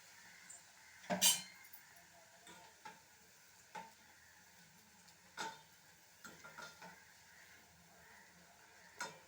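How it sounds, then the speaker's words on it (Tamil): Bread pieces for bread halwa go into hot oil for frying, with scattered clinks of a utensil and occasional stirring scrapes over a faint, steady sizzle. "இப்போது எண்ணெய் சூடேறிட்டு நம்ம எல்லாத்தையும் போட்டு பொறிச்சு எடுத்துடலாம்"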